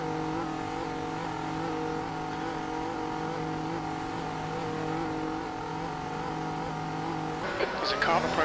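A race car in the iRacing sim at Autodromo Internazionale del Mugello for the Tuscan GP: a steady, loud engine drone holds a constant pitch, with a brief rising burst near the end.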